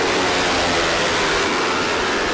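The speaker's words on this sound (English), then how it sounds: "Really pushing that twin-cylinder engine." A Yamaha R3 twin-cylinder motorcycle at full throttle during a national championship road race, a dense, steady engine roar sustained without letup for the whole stretch.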